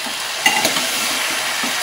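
Marinated chicken with dried red chillies gets stirred with a ladle in a hot pan, giving a continuous loud sizzle with a few brief scraping stirs near the start.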